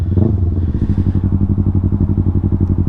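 A Yamaha R3 with an Akrapovic full-system exhaust and Power Commander tune drones loudly up close, a rapid pulsing exhaust note held steady through a short rev.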